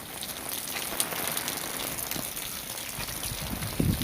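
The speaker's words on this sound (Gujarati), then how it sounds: "ચાલુ વરસાદ છે" Steady rain falls on a quiet town street, a constant broad hiss with occasional louder splashes and no voices.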